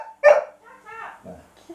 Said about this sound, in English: The dog just started barking at me for no reason